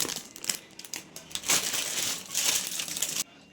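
Fresh fenugreek (methi) leaves are plucked and handled at close range, producing crisp crinkling and snapping rustles in bursts, heard alone before a short pause.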